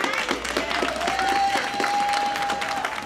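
A crowd at a Flint celebration marking the 50th anniversary of the Selma to Montgomery march gives the mayor sustained, dense applause, with voices and a tonal ring faintly beneath the clapping.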